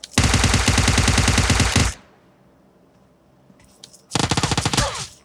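Automatic gunfire in the PUBG video game on the Erangel map: a loud, rapid burst of shots for about two seconds, a pause of faint background, then another fast burst of fire.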